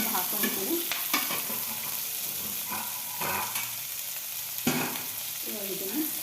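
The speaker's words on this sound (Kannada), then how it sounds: "ಇವಾಗ ಇದನ್ನು ನೀಟಾಗಿ ಫ್ರೈ ಮಾಡ್ಕೊಳ್ಳೋಣ ಎಣ್ಣೆಯಲ್ಲಿ." Small capsicum pieces frying in oil in a pan, a continuous sizzle broken by several scraping stirs of the spatula, close and fairly even, no speech.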